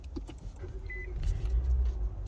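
Inside a 2022 Nissan Versa SR, a short electronic chime sounds before the engine starts and settles into a low, steady idle rumble close by, with no talk.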